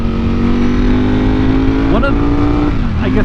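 A 2020 Ducati Panigale V4 engine hums at a steady, loud pitch during an onboard ride, held below 7,000 RPM, with brief pitch shifts near the end.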